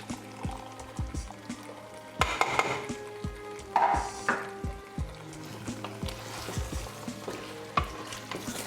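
Butter beans being stirred into a pot of Jamaican oxtail stew, with a steady low simmering sizzle under repeated scraping, clattering stirring strokes that grow louder around the middle and keep going in uneven bursts.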